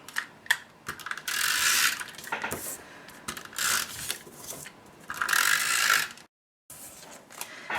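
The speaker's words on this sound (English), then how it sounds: "So let's apply some snail adhesive to that." A snail adhesive tape runner rolls glue strips onto a card mount, giving several bursts of close ratcheting, clicking mechanical sound separated by short pauses, with no talking.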